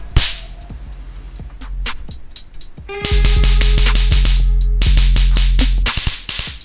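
A high voltage generator module for a homemade ion thruster, run from a lithium polymer battery, gives sharp crackling snaps and bursts of buzzing discharge, loud and close, in irregular clusters with no talk.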